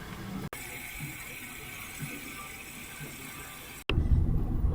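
Water runs from a tap at a Maverick filling station into a container, a steady hiss broken by two brief cuts, then a fuller, heavier gush at the end.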